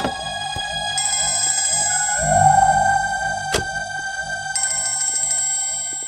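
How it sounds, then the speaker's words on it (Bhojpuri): A phone ringtone rings on and on unanswered, a bright repeating electronic melody with a sharp click midway and no one speaking. "अरे ये तो फोन नहीं के उठावत।"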